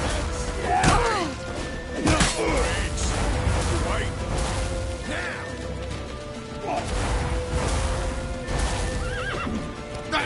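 Horses neighing and whinnying amid clattering hooves and thuds in a hectic chase scene, several loud whinnies rising over busy clip-clop and scuffling, with voices shouting in the mix.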